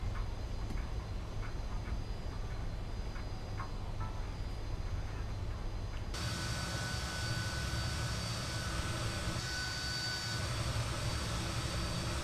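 Jet engines of a Fokker F28 in a flight simulator game roar steadily on the ground at idle, a dense constant rumble and whine that rises abruptly to a brighter, louder hiss partway through.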